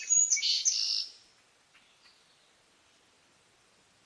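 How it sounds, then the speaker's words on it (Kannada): Two newly hatched sparrow chicks give high, thin chirps in a quick cluster lasting about a second, then fall silent apart from a couple of faint peeps and a short closing chirp. "ಅದರ ಆ ಮರಿಗಳ ಕೂಗು, ಚ್ಯೂ ಚ್ಯೂ ಎನ್ನುವ ಶಬ್ದ"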